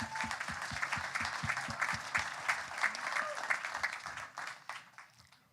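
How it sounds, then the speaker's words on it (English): Audience applause fills a Libertarian Party state convention hall, a sustained wash of many hands clapping that holds steady, then thins and fades toward the end. "So everybody should give them an applause too."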